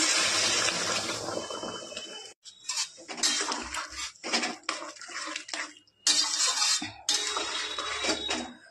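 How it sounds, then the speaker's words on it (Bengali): Boiled water is poured into a pan for a Bengali-style shol fish curry. Loud splashing pours come in several bursts, broken by short pauses and a light clatter of cookware. "জলটা আমার ফুটে গিয়েছে, এই জলটাই আমি দিয়ে দেবো। জল দিয়ে দিলাম।"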